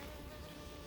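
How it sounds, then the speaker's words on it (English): Honey bees buzzing around a beehive, a steady, close, low droning hum with no breaks and no voices. "if you listen closely, you can hear the sound of the bees"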